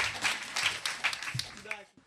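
Audience applause at a church worship service: a crowd claps in a brief, dense patter that fades out after about two seconds, with voices mixed in.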